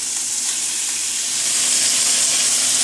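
A steak sizzles steadily in a hot pan, a dense continuous frying hiss that swells slightly louder toward the end, with no talking.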